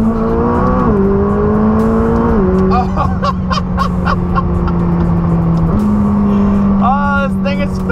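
McLaren 600LT engine in track mode pulling hard in second gear: a loud, continuous drone that steps in pitch through gear changes, with a voice talking over it.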